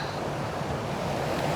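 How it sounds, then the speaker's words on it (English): Water rushes down Wyman Brook on a misty day, a constant broadband roar heard close with no voices. "I've got the water rushing down in this direction"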